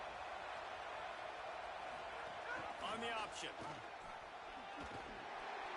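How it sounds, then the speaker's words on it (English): A college football stadium crowd at an Alabama game keeps up a steady, dense roar throughout, with a commentator talking over it. "This crowd bringing the energy and noise early."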